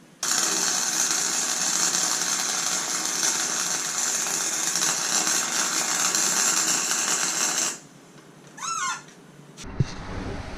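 Welding on a mudding lawn mower build: a steady, close, crackling buzz holds for about eight seconds, then stops, followed by a few faint squeaks and a brief clunk.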